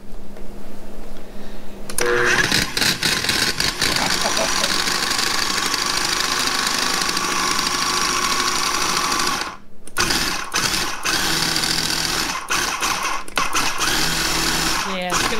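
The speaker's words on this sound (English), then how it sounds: "we're going to go put these in the food processor and mush them up" KitchenAid food processor mashing green bananas, a loud steady motor whir starting after a quieter opening, briefly cutting out and pulsing on and off near the end, with talking over it.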